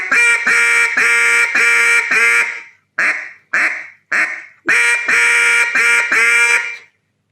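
Loud, close duck-call quacks blown in two rapid strings of five or so bursts, with a few short separate quacks between them and nobody talking.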